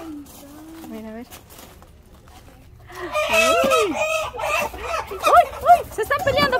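Chickens in a yard in Ecuador, with a rooster and a brooding hen, cluck and squawk loudly in quick agitated bursts as a scuffle breaks out, while people speak excitedly over them.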